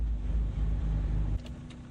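A track-tuned Honda Civic Type R with a VTEC engine gives a loud, steady, deep engine roar that drops sharply in intensity just before the end, with no voices.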